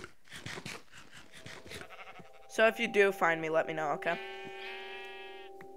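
Sheep bleating in the Minecraft video game, a few short game-sound bleats in the middle of the clip, heard clearly after and alongside someone talking.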